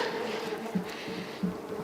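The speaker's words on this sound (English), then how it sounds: "bees! Not the bees!" A swarm of bees buzzes steadily and fairly close in a staged fairytale skit at a youth-led church service, a continuous droning hum with slight swells.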